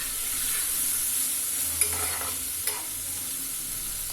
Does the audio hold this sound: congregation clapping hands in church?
no